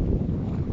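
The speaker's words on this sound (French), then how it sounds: "je m'excuse d'avance du vent parce qu'il y a vraiment pas mal de vent" Strong outdoor wind buffets the microphone in a short burst, producing a loud, low rumbling roar that fills the whole moment with no other sound.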